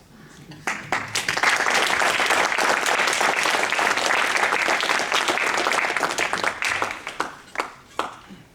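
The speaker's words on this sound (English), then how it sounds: "let's give Steve another round of applause" Audience claps warmly after a university public lecture, the applause swelling quickly, holding full and dense, then thinning into a few scattered final claps.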